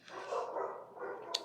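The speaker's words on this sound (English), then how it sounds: "Excuse my dogs barking if you can hear them in the background." Dogs bark somewhere in the distance, faint and muffled, in a short drawn-out run that fades, with no talking over it.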